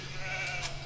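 Sheep bleating in a medieval real-time strategy game on a Mediterranean map, a short, faint bleat heard once over a steady low game hum.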